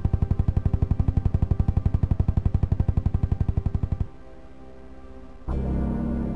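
Variable-speed cannon of a Comanche RAH-66 helicopter in a video game, a rapid, loud mechanical burst of evenly spaced shots for about four seconds, then a lower rumble and a renewed roar.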